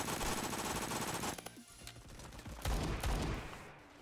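Rifle fire in the Roblox shooter Phantom Forces: rapid automatic bursts, loud and close, broken by a brief lull and then further heavy volleys toward the end.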